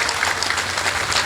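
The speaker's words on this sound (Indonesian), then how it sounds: "Tepuk tangan untuk kita semuanya." Applause from an outdoor crowd at a centenary gathering of the PSHT martial arts brotherhood on a village field, heard as a dense, steady wash of clapping with no gaps across the short stretch.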